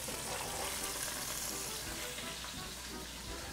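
Big chunks of carrot and onion roasting in a hot pan for beef stew give a dense, steady sizzle that fills the whole stretch without pause, close and fairly loud.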